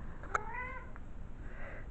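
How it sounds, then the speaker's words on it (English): A pet cat gives a single short meow up close in a quiet room, followed by faint rustling. "Meow."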